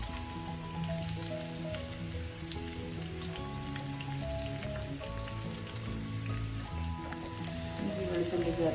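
Chopped ginger and garlic sautéing in a pan for okra mappas, a soft continuous sizzle like light rain under steady background music, fairly faint and even throughout.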